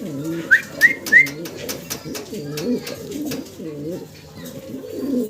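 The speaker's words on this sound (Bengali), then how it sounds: "একজোড়া বোম্বাই কবুতর আছে ভাইয়ের কাছে" Bombay pigeons coo in repeated low, rolling phrases close by, with a few sharp whistled chirps early on and some light clicking in the background.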